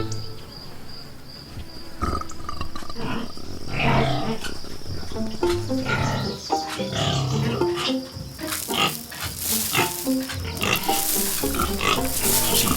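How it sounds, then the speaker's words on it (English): Sow grunting steadily while her piglets feed on a farm, repeated low grunts mixed with squeals, snuffling and rustling that grow busier and louder toward the end. "She constantly grunts when the babies are eating."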